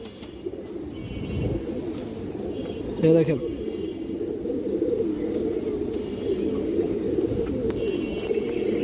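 Army breed pigeons coo softly and repeatedly nearby as someone talks over them continuously, with the cooing forming a low murmuring bed beneath his voice.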